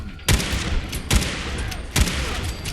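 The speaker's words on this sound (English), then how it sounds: "Someone threw a grenade at us." Grenade blast and gunfire from the video game Fallout 4: three sharp, loud explosive bursts roughly 0.85 seconds apart, each with a heavy low boom, then a ringing, crackling tail between the hits.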